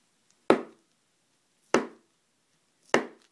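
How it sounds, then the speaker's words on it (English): A knife slices through a wax loaf three times at an even pace, each cut a crisp, close thunk with a short tail, separated by near silence. "this wax is just cutting beautifully, cutting like a charm"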